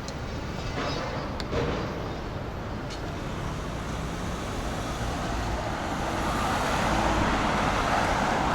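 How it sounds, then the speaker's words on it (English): Steady roadway traffic rolls along Park Avenue in New York, a dense broadband rumble and whoosh of passing cars, cabs and buses, with a few sharp clicks early on and the roar swelling slightly near the end. "Let's see what cars drive down Park Ave."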